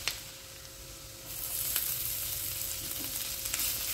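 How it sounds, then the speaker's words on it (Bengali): Ginger and chopped garlic fry in a pan over medium heat, a steady close sizzle that grows louder after the first second and carries on with faint stirring clicks. "এখন আদা আর রসুন একসাথে ভালো করে ভেজে নিতে হবে।"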